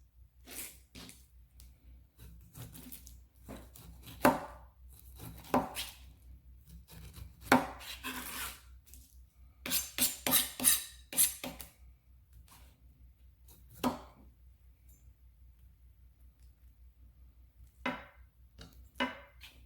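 A knife chops and trims the spiny brown bits from the ends of a pineapple on a cutting board, producing a string of crisp, close cuts in irregular bursts with quiet pauses between.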